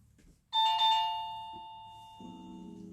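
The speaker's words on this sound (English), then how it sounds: "someone rang the doorbell" A doorbell chimes once indoors, a bright two-tone ding-dong that rings out clearly and decays slowly, heard after a brief quiet moment and followed by faint background murmur.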